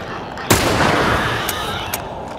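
Loud gunfire in The Last of Us: Remastered, Left Behind DLC, one sharp blast followed by a rumbling boom, then two fainter shots about half a second apart.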